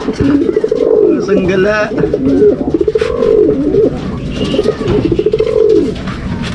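Pigeons cooing repeatedly in the rain, close and loud, a series of rolling rising-and-falling coos with a voice speaking briefly over them.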